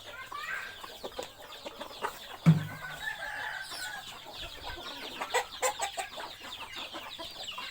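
Native village chickens scratching around a rural yard, soft scattered clucks and short calls coming and going at moderate distance, with a brief louder squawk partway through and a busy run of clucking near the end.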